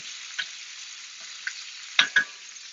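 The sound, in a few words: quail searing and browning in a frying pan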